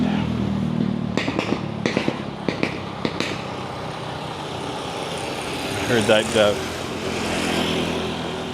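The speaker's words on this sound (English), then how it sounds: "Heard that motorcycle backfiring, made me think of fireworks." A motorcycle backfires outdoors with a quick series of sharp pops and bangs over an engine rumble, followed by the engine revving and droning on at a moderate distance.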